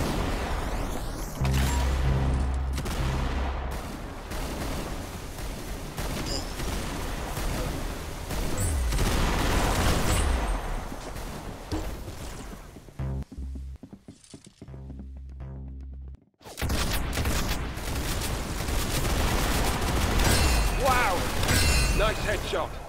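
Rapid bursts of gunfire in the Roblox shooter Arsenal, dense and loud through most of the stretch, with a brief quieter gap and voices talking over the action.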